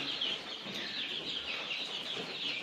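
Many small chicks peep continuously in high, overlapping chirps inside a brooder house on a poultry farm, a busy shrill chorus close by with no talking.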